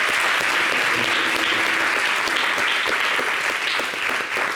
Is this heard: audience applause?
yes